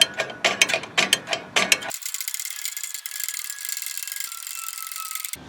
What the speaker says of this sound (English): I'll pull this back and then turn that wheel in so that I can compress this self-adjuster